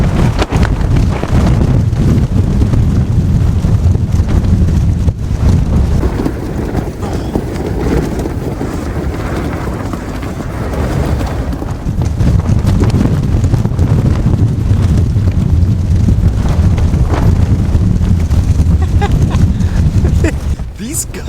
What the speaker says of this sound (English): These gusts are wild,